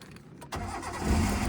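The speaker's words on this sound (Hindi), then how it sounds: "अब आप क्लच दबा के इंजन ऑन करो" Car engine starting with the clutch pressed: a brief starter crank, then the engine catches and settles into a low steady idle that grows a little louder, close by with no talking.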